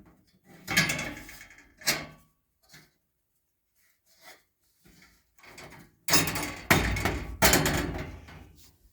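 A metal furnace filter holder is knocked into place during a furnace replacement, giving a couple of sharp knocks followed by a denser run of loud, close thumps and bangs, separated by quiet gaps.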